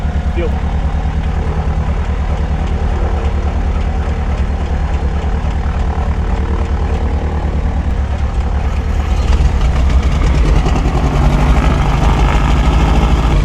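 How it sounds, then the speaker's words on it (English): The left engine of a Piper Turbo Comanche, a rare twin that had sat for 14 years, runs with a loud, steady droning roar that swells slightly toward the end, close to the microphone. "let's get this the left engine fired up"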